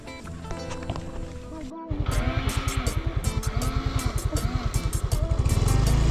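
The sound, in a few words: motorcycle engine running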